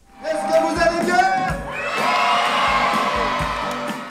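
A crowd of excited primary school children cheering and whooping loudly at a school event as older students make their entrance; the shouting swells in waves and then holds as a sustained roar.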